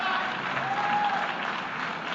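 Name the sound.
applause in the UN hall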